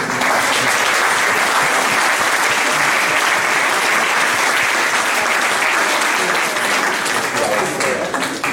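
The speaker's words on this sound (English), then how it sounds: "I may ask you to give them a warm applause, please." A conference audience gives a warm round of applause after a panel session, thick and sustained clapping that holds at full strength for several seconds before thinning slightly at the end.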